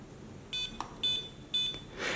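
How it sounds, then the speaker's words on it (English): Three short electronic beeps at an even pace from a Hubsan Q4 H002 drone transmitter entering stunt mode, a clear high tone each time, followed by a brief burst of hissy noise. "after hearing the 3 beeps"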